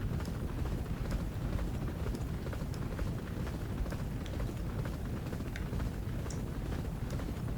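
Racehorses gallop in the Champion Jockey racing video game, a faint, continuous rumble of rapid hoofbeats thudding under wind-like noise, with no talk in between.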